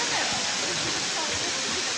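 Waterfall at Nazlı Bulaq near Quba, Azerbaijan, a steady, loud broadband rush of falling water that fills the whole clip without pause, heard close by from a wooden footbridge.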